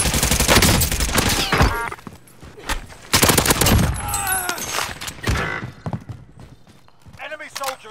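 Rapid bursts of Uzi submachine-gun fire in a battle royale shooter video game ring out loudly, then come again in clustered volleys with brief gaps between them. Game voices and effects are mixed in around the shooting.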